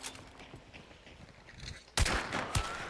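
Incendiary rounds fire in a video game, a sudden loud burst of rapid gunfire kicking in near the end after quieter shuffling sounds.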